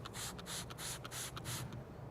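Several quick bursts of spraying cleaner from a trigger bottle onto a rubber floor mat, close by and fairly quiet, in an uneven rhythm with short gaps between squirts.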